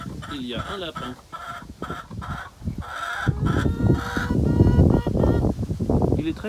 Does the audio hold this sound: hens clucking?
yes